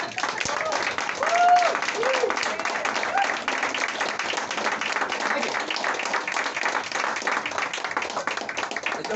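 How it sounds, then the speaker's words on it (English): Applause from a crowd at a poetry reading, many hands clapping steadily throughout, with a voice speaking over the clapping near the start. "There's no time for applause."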